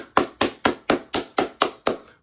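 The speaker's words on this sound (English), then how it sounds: "Let's clap it up." Eight crisp hand claps in a steady, even rhythm, fairly loud and close, with no talking.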